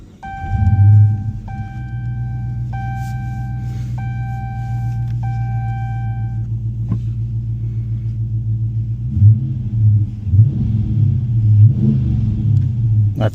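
A Dodge Challenger R/T fitted with a K&N drop-in air filter starts up and idles with a deep, steady close-up rumble, then the engine is blipped into a few louder revs near the end, with a chime pattern over the first half.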